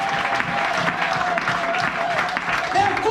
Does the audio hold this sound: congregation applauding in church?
yes